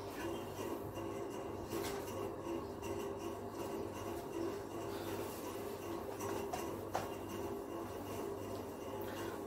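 Steady rubbing scrape of an eraser wiping part of a classroom board during a class 12 maths lecture, continuous and moderately close over a low room hum, with no talking.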